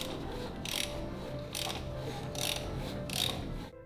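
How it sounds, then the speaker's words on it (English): A race Honda engine with no oil cranks over on the starter, making a rhythmic mechanical whirring and clattering with periodic surges roughly every second. The sound is steady and fairly quiet, then cuts off at the end. "Maybe I'll lower the car now and crank it over once more in start mode."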